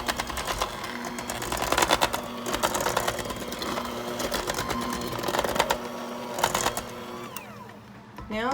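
Brownie batter, made with Bob's Red Mill organic all-purpose flour, is mixed at low speed. The mixer gives a steady whirring drone with some rattle, running throughout at a fairly even level.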